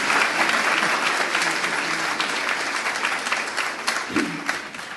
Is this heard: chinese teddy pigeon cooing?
no